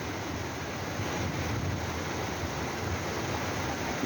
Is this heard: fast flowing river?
yes